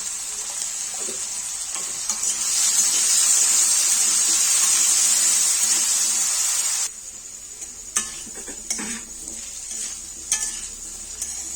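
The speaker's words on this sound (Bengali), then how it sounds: "আলুগুলো ভাজা হয়ে গেছে তুলে নেব এবার" Potato pieces seasoned with salt and turmeric sizzle and fry in a pan for a Bengali chicken ghugni, a loud steady hiss that swells midway, then drops to quieter frying with clinks of a spatula stirring.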